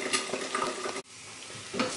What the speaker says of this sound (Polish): Ja jajka przykrywam i smażę 2 minuty, a placek również się dosmaża.